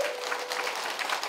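Steady applause from a crowd at a Buddhist temple dharma ceremony, dense clapping filling the whole stretch at an even level with no voices on top.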